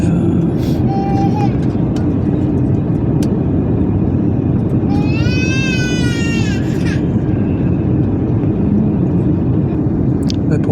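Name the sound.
airplane about to land at Geneva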